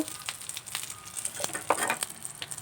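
Tempering spices crackle and sizzle in hot oil for saaru, a steady close frying hiss with small popping bursts and no voices.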